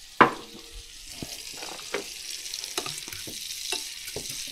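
Sweet Dumpling squash frying in butter over high heat in a pan on a wood stove, a faint, steady sizzle broken by a sharp clack at the start and a few soft stirring knocks, no talking.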